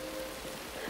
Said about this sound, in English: It's rain. Real rain?